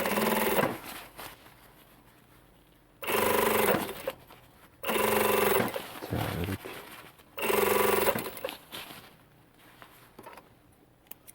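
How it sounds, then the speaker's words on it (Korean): A sewing machine stitches the hem facing of a hiking-clothes repair in three separate bursts of rapid mechanical chatter, with quiet pauses between runs. "안단을 반듯하게 놓고 박음질을 합니다"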